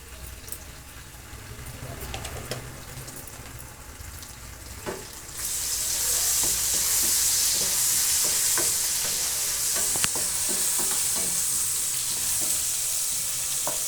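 Store-bought ginger garlic paste hits a hot pan while cooking bobbarlu (black-eyed pea) fry. A quieter sizzle jumps to a loud, steady frying hiss, broken by spoon scrapes and stirring clicks, with no talk.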